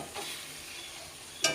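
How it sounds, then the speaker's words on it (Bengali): Spices fry in a pan while being stirred, a brief soft sizzle with a couple of scraping strokes, the last one sharper and louder, close by and without talk. "তাই এবার মশলাটা দিয়ে নাড়াচাড়া করছি।"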